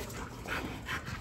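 An adult male Fila Brasileiro dog pants and whimpers faintly in a few soft breathy bursts over a noisy background.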